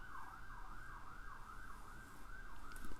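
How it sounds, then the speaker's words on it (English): An ambulance siren passes by outside, its wailing tone rising and falling steadily over low traffic rumble, fairly prominent and continuous with nobody speaking. "whenever there's an ambulance or anything coming by, you will most likely hear that in the background as well."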